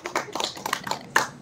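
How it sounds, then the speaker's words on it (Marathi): A group claps hands at a farmhouse gathering, a brief burst of scattered, uneven claps heard close. "टाळी बजाव टाळी बजाव टाळी बजाव."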